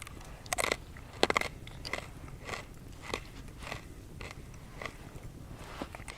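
Homemade dry biscuit is bitten and chewed up close, a loud first crunch followed by a steady series of crisp chewing crackles, with no talking.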